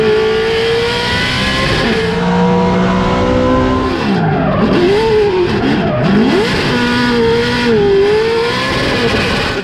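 A 2020 Toyota Tacoma truck built as a SEMA show machine thrashes hard, engine roaring steadily while tires squeal and skid in long sweeping slides, loud and close throughout with pitch swoops as it turns.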